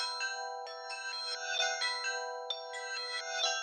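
An unreleased accent sample for a dark trap beat, made of bright bell-like melodic tones in a quick repeating pattern, faint and alone with no voices.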